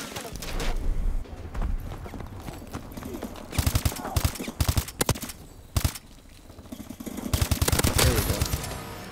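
Call of Duty Advanced Warfare multiplayer gunfire, loud bursts of rapid shots and sharp single cracks in clusters, close and dense, mixed with game noise and excited talk.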